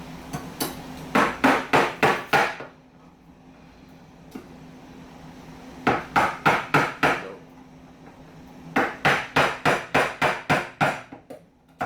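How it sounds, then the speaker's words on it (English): A knife chops hard on a board in Jamaican home cooking, with three bursts of rapid, heavy, evenly spaced thuds and quiet pauses between them, close and loud. "I'm going to use a good old knife, the good old island way, the good old Jamaican way"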